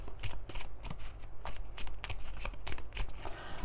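Oracle cards being shuffled for a thirteen-card reading, a rapid run of crisp papery riffles and slaps close up, steady and continuous with no voices over them.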